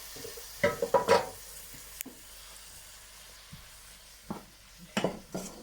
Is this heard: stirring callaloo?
yes